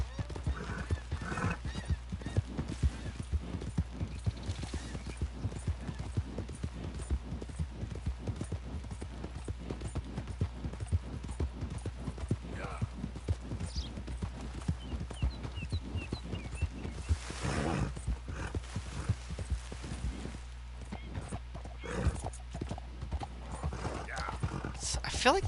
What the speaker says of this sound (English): Get off the porch, horse.